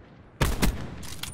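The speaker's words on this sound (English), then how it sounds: "Sniper firing." Two sharp rifle cracks from a sniper in a shooter game go off close and loud in quick succession, each followed by a short tail.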